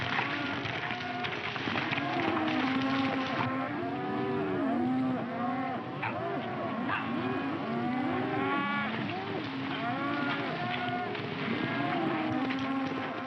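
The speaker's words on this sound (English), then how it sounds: "I want you to take these cattle pretty fast out of this section, then slow them down." Cattle herd being driven fast in a 1941 western, with steady overlapping mooing and lowing from many animals over a continuous rumble of hooves and movement, loud and close throughout the full stretch.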